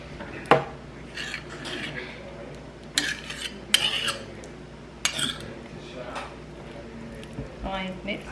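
A pot and utensils clatter as noodles are scooped out while cooking a vegan Thanksgiving meal, with scattered sharp clinks and scrapes at irregular intervals beneath steady talking nearby.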